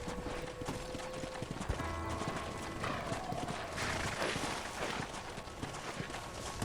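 Horse hooves clip-clopping in a ranch-themed video game, a steady trotting rhythm heard faintly in the distance with ambient game sounds.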